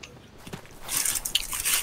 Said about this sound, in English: that munching is so loud